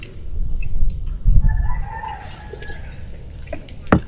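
Chickens in a coop around a Filipino farmyard, with soft scattered clucks and a faint, distant crow under steady low rumbling background noise, plus a sharp bump near the end.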